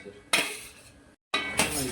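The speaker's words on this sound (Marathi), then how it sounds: "सोयाबीन टाकून घ्यायचे आपण ह्याच्यामध्ये" Soybeans tipped into a cooking pan with homemade masala and stirred, giving two bursts of metallic scraping and clinking from a spoon against the pan, separated by a brief silence.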